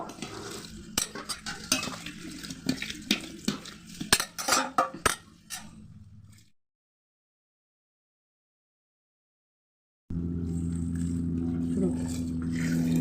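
Soaked soybean chunks being washed by hand in a bowl, with close clinking and rubbing against the bowl and splashy handling, then a silent gap and a steady running-water-like hiss, with a voice speaking.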